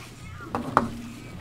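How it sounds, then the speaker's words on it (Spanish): A domestic cat gives two short meows close by, the second louder and rising, over a low background hum with no talking. "El gato quiere estar aquí, pero..."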